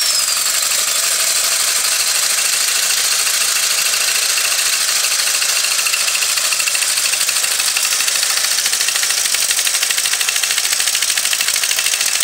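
A small engine running with a flywheel slightly off square, scraping and hitting its guard: a loud, continuous fast rattling clatter that stays steady throughout, close up, with no talking.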